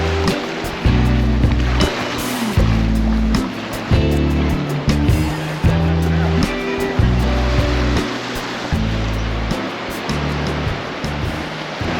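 Waves wash repeatedly onto a small beach in Rio de Janeiro, a loud, continuous surf roar with regular surges over several seconds and no voices.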